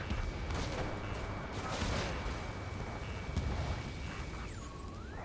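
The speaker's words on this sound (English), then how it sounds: "Gunfire and the roar of jets echoing through the streets." Gunfire and jet roar in the video game Ace Combat 7, set over a city under martial law, a dense rumbling barrage of booms and crackling bursts with a thin whistling tone, continuous and fairly loud.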